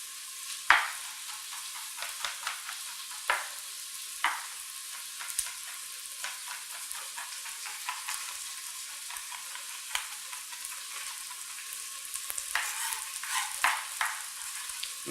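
Onions, peppers, potato and carrots sizzle steadily in a pot, a continuous frying hiss broken by scattered stirring scrapes and clinks, close and moderately loud with no talking.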